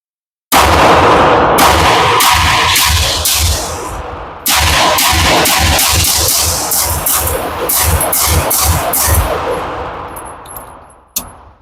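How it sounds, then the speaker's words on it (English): Pistol shots from a 2011-style handgun on a firing range, a rapid string of sharp, loud reports fired in quick succession with a brief pause midway, then ringing metallic pings near the end. "We are going to be running a couple mags through it, just see how it runs."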